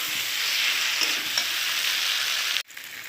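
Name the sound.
fried potatoes and spice paste sautéing in a pan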